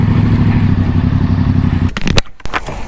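A Triumph Trident 660 motorcycle engine runs loud and steady nearby with a rough, throbbing idle, then breaks into a few sharp clattering bursts and knocks toward the end.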